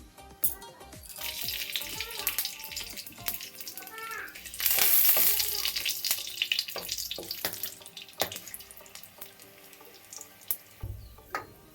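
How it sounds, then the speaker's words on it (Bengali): Bay leaf, dried chilli and cinnamon are tempered in hot oil for a Bengali cauliflower roast, giving a loud, steady sizzle and crackle up close that swells for a moment midway, with a few clinks and stirring sounds. "এবার আমি দিয়ে দেব ফোড়নের যে মশলাগুলো, তেজপাতা, শুকনো লঙ্কা এবং দারচিনি।"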